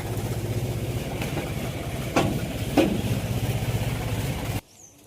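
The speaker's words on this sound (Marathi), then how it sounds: "तर आता हे ट्रॅक्टर आपण इथे रिवर्स लावून घेऊ" A tractor engine runs steadily at a low rhythmic throb while reversing into place on a farm, with a couple of brief louder bumps, then cuts off abruptly near the end.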